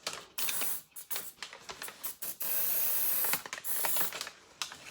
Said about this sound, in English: first of all spray my PB blaster on this